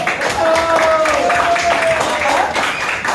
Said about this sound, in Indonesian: tepuk tangan dong untuk video pembelajarannya